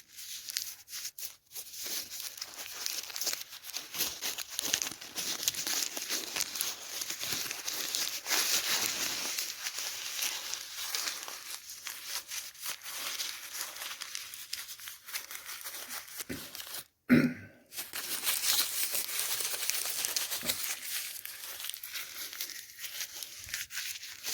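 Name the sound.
crumpling a paper receipt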